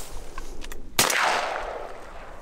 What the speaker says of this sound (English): Garret, shoot it. Garret, smoke it